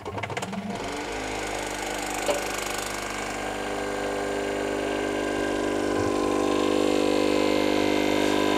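A vacuum pump drawing air from a vacuum chamber holding mason jars of dry goods. It starts with a clunk, then holds a steady mechanical hum that grows slightly louder and stays close.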